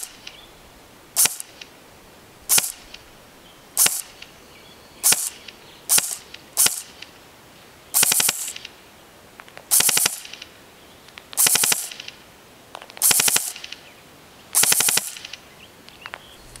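A Smith & Wesson M&P 15 airsoft electric rifle firing at a target 150 feet away, in short bursts and single shots that rattle with a sharp mechanical buzz, each burst cleanly separated by pauses.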